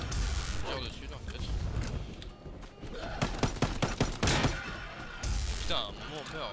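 Gunfire from a cooperative WWII zombie shooter game, bursts of rapid shots with mechanical clicks around them, under people talking.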